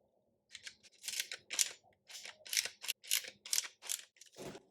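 A screw being undone on a 3D-printed flintlock Nerf musket gives a close series of about ten short, crisp clicking and scraping bursts in steady rhythm, with no talk.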